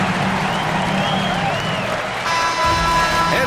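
Crowd applause and cheering in an NBA 2K25 basketball game after a home win, a steady wash of clapping throughout with a brief electronic tone layered in near the end.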